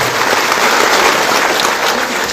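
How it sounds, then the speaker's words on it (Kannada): Loud applause from a village farmers' meeting crowd, a dense, continuous burst of clapping heard up close for a couple of seconds with no talking over it. "ಜೋರಾದ ಚಪ್ಪಾಳೆ"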